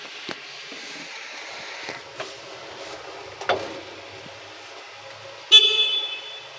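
Quiet clicks and small knocks, then a single short electronic horn beep from a Kuba electric van sounds close by near the end.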